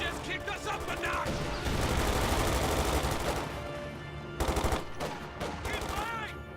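Bursts of machine gun and rifle fire in a Company of Heroes battle, dense and continuous with sharper rapid volleys toward the end, loud and close, with in-game voices shouting over the shooting.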